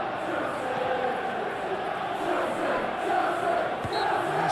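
Stadium crowd noise from an eFootball PES 21 simulation of Chelsea versus Leeds United in an FA Cup semi-final, a steady broad roar of fans rising slightly in waves, continuous and fairly loud throughout.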